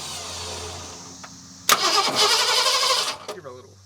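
A 1970 Ford Mustang V8, long abandoned and fitted with a carburetor, cranks and fires into a loud, steady running roar that lasts a little over a second before cutting off, with voices talking over it.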